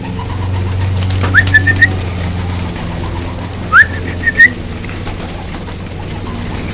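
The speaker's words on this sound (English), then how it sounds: "This is a 2012 young bird team that is trained out to about 65 or 70 miles." A 2012 team of young racing pigeons gives soft whistling calls in short bursts, some rising sharply, over a low steady hum, with a couple of louder bursts in the middle.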